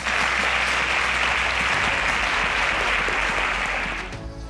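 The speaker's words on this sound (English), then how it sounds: "Round of applause for them." An audience at a televised quiz show applauds the contestants with loud, dense, continuous clapping that holds steady and then tapers off at the end.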